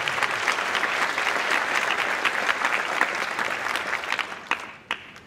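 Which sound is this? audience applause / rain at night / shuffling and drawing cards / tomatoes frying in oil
audience applause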